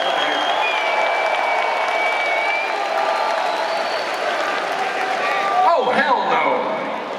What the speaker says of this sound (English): you motherfuckers need to put your hands together and give yourself one more round of applause